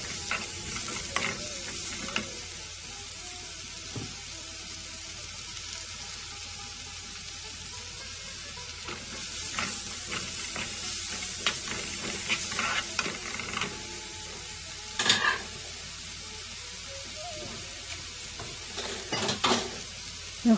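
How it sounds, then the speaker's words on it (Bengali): Onions and mushrooms sizzling in a pan, a soft continuous frying hiss with sporadic spatula scrapes and clinks that grow busier in the second half, close by with no talk. "এখন ভালো করে নাড়াচাড়া করে 1 মিনিট কুক করব।"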